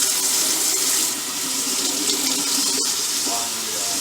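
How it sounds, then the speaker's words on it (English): Hot water runs from a kitchen sink tap onto a greasy colander, a continuous close hiss and splatter with no talk. "get some hot water running on the sink and on the colander to get the grease off"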